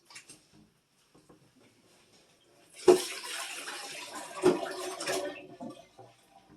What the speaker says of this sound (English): The first thing I'm going to do is fill up my stock pot